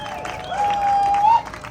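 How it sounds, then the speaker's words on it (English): Applause from a rally audience, moderate clapping and crowd noise with a steady whistle-like tone through the middle before it fades. "Give a round of applause for Danny Alonso"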